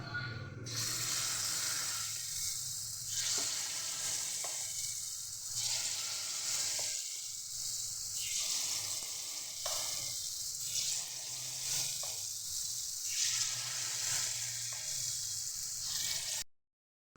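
Paniyaram batter sizzling in hot oil in a paniyaram pan, a loud continuous close hiss that swells in regular pulses about every two seconds before cutting off abruptly at the end, no voices.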